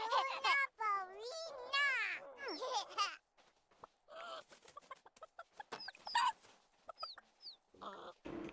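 Chickens cluck and squawk in a video game, with several close bursts of rising and falling calls, then sparser, fainter clucks and chirps amid quieter game sounds.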